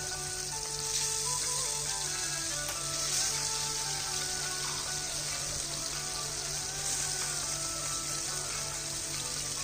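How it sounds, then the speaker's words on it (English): Marinated fish pieces shallow frying in hot mustard oil in a pan on high flame, a continuous close sizzle and crackle with a steady low hum beneath, no voices. "add one by one these marinated fish pieces into it"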